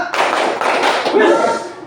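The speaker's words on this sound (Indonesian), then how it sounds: "Tepuk dua." A group claps in a short burst of close, crisp hand slaps, with voices talking right after.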